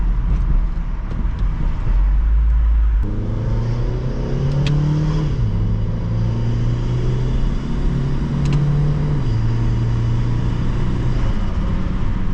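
A turbocharged R18-engined Honda Civic fitted with a Civic Si exhaust drives by loudly, its engine droning steadily and rising and falling through several gear changes, with no talking.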